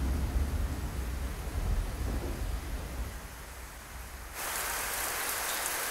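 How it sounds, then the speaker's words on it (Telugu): Steady rain falling, a dense hiss of drops on surfaces that grows brighter and heavier near the end, with no voices. "వర్షం కురుస్తోందో."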